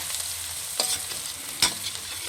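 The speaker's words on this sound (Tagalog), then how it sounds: "lagyan na natin yung bawang" Garlic frying in a pan for a seafood and glass-noodle dish, a steady close sizzle broken by two brief scraping stirs.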